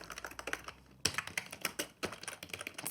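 Rapid typing on a computer keyboard while entering short text messages into show-control software, a close, steady patter of key clicks with a brief pause near the middle and no voices.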